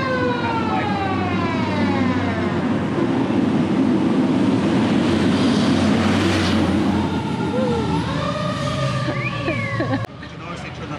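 Emergency vehicle sirens wail through a Charleston street, rising and falling in sweeping tones, loud and close before cutting off near the end, with voices talking underneath.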